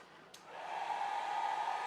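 A hair dryer is switched on to dry alcohol inks, a click followed by a steady rising whir that settles into a constant airy hum, heard alone and moderately loud.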